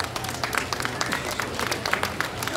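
Audience clapping at a livestock show, applauding a heifer exhibitor after a breeding-project placing; steady, moderately loud scattered claps fill the whole stretch with no voices.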